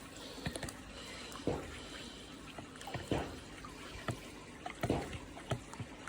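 LERNEX PRO pond treatment being stirred into water, with soft sloshing swirls and splashes recurring in an uneven rhythm, close and fairly quiet.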